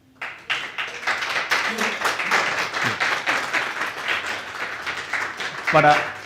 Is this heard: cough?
no